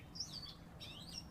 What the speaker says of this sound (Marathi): पक्ष्यांचा चिवचिवाट जो आहे तो वाढला आहे